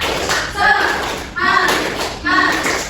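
Elementary classroom children performing a rhythmic spirit clap, three loud grouped bursts of clapping spaced evenly, with children's voices chanting along between the claps.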